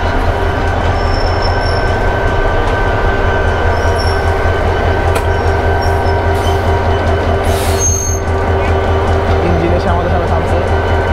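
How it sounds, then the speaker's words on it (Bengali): A train pulling into a railway station gives a loud, steady rumble with ringing wheel squeals and a high whine, and voices can be heard over the noise. "এ দেখেন ট্রেন চলে আসছে"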